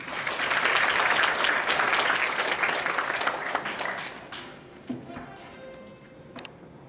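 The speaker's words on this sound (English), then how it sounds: "With our applause, please." Audience applause welcomes a speaker at a climate change adaptation conference, a full round of clapping that holds strong for several seconds, then thins to scattered claps and fades out.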